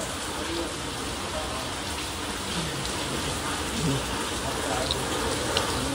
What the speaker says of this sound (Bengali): এখানে খুব জোর বৃষ্টি হচ্ছে